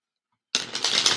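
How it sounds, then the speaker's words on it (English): A deck of tarot cards is shuffled after a brief silence, making a dense, crisp riffle of rapid paper flicks. It sounds close and steady and carries on for under a second. "Just another shuffle."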